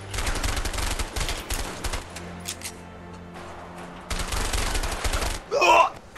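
Bursts of rapid machine-gun-style gunfire in A Way Out, loud and close, stopping for a quieter gap midway and then resuming, with a brief voice cry near the end.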